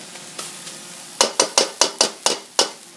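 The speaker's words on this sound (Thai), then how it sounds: "ก็ผัดให้มะเขือเทศมันเละๆหน่อยก็ได้" Tomatoes for a Thai nam prik ong chili dip are stir-fried in a pan: about seven quick, evenly spaced spatula strokes swish and scrape up close after a quieter start, with no talking.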